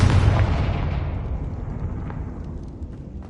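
A Confringo blasting spell in Hogwarts Legacy detonates with a heavy, loud explosion that opens with a sharp burst, then rumbles and fades into a long, dull decaying roar with faint crackles.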